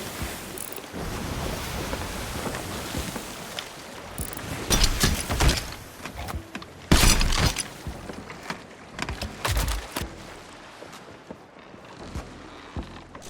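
A ship sailing the sea in Sea of Thieves, with a washing, rushing wash of waves and wind under scattered louder splashes and creaks, no voices.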